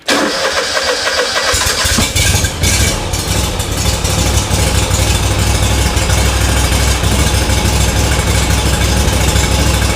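A SCAG Cheetah II mower engine fires up after a high-pressure fuel pump replacement, then runs with a loud, steady, close rumble that fills the whole stretch, with no talking.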